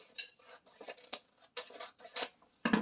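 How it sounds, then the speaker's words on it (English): Scissors snip through a paper sewing pattern along its edge for a tote bag, a series of short, separate crisp cuts with small pauses between them, close and fairly quiet. "I'll just cut out the same thing on the edge here"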